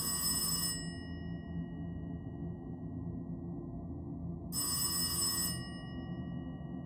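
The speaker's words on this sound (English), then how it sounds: "then you hear on the line, a phone" A telephone rings twice in a long trilling bell, each ring about a second, with a pause of several seconds between them over a steady low hum of line noise.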